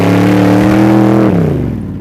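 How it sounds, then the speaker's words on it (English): An off-road hot rod buggy engine revs loudly and close, a steady throaty drone that rises slightly and then drops away as the throttle eases off. "I got this buggy running well."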